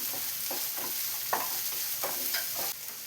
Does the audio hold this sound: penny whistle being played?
no